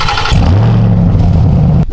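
Supercharged V8 of a RAM TRX pickup rumbles loudly up close, a deep steady roar with a brief rise at the start, alone without talk.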